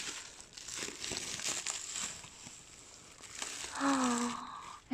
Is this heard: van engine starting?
no